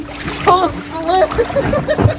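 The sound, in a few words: splashing around in Ooze Baff slime bath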